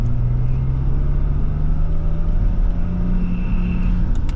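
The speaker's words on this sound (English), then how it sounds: "So if you rev this car" Engine of a 1993 BMW M5 E34 with a chipped rev limiter, a steady loud droning hum with a rising tone, heard from inside the car as the revs slowly climb.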